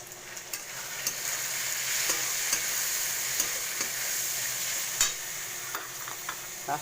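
Tomato paste for matar ghugni sizzles steadily in a hot pan as a spoon stirs it, tapping and scraping the metal now and then. The frying is close and continuous, with no talking.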